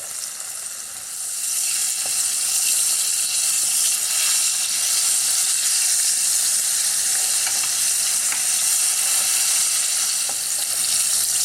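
Pork spare ribs frying in a pan, giving a loud, dense, steady sizzle and spitting hiss that swells after the first second and holds throughout, with faint occasional pops and no talk.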